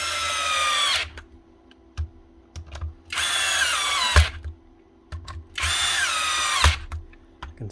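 A Metabo KHE 5-40 rotary hammer, freshly greased, runs in three loud bursts of about a second each, separated by pauses with small knocks and clicks between them.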